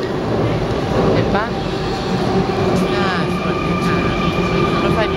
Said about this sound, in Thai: ฝั่งนู้นรถไฟมาแล้วนะคะ